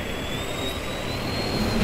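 Spaceship engines power up to maximum in the Battlefleet Gothic: Armada video game, a steady jet-like roar with a thin rising whine above it and no talk.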